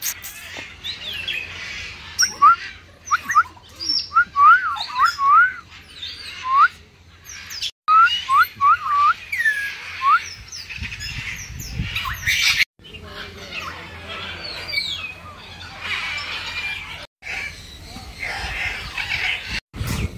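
An African grey parrot lets out a string of sharp rising whistles and harsh squawks, loud and close, with pauses between bursts and other bird calls chattering in the background.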